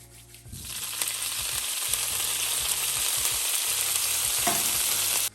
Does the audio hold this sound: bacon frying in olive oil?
yes